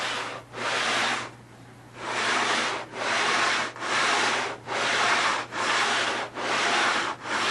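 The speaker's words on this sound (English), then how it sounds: "Once it gets off to 40 grit, get onto the lighter sandpaper." Coarse 40-grit sandpaper rubbed along a plywood edge of a model aircraft fuselage, a steady rhythmic scratching in about eight even back-and-forth strokes with brief pauses, close and loud with no talk.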